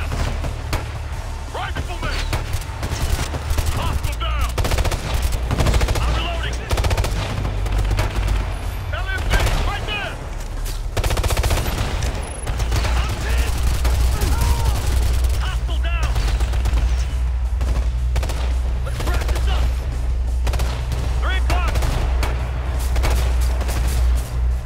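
Sustained battle gunfire in Ghost Recon Future Soldier, with dense machine-gun bursts, scattered shots and booming explosions rolling continuously, while a player talks excitedly over the din.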